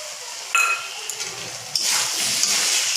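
Peas tipped into a hot pan already holding turmeric, ginger, cumin and dried chilli powder, giving a sharp clatter and then a steady bright sizzle, with a second splash of sizzling partway through.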